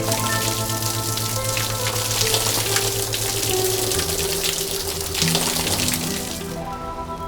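Water spraying from a hose while cleaning, a steady hissing splash of water hitting a surface with a tonal engine or machinery drone underneath.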